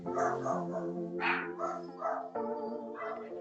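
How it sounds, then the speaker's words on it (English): A dog makes a run of vocal, whining barks and yips nearby, several short tonal bursts in quick succession, alone with no talk. "And that's my dog."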